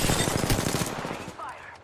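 Rapid automatic gunfire in the battle royale shooter Apex Legends, a dense run of shots that stays loud and continuous before easing off, with game voice chatter and effects layered over it.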